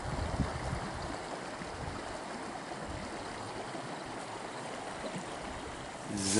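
A creek overgrown with wild mint flows steadily with a continuous close rushing and gurgling of water, even in level throughout and with no voices.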